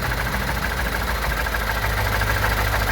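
A JMC truck engine idles roughly, shaking because of a low-power injector, producing a steady close-up drone with an uneven, knocking low-end pulse.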